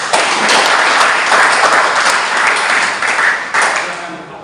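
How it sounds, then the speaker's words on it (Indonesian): A class applauds a student group about to present technical drawing work, with dense, steady clapping from many hands filling the room for several seconds at close range. "Kita beri tepuk tangan kepada kelompok 1"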